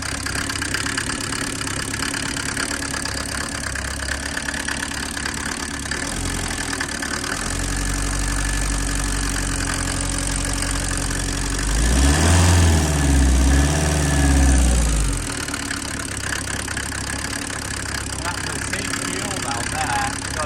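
A Mercedes 308D diesel van engine being built into a motorhome idles steadily after starting, with a heavier low rumble swelling for a few seconds midway, close and continuous throughout.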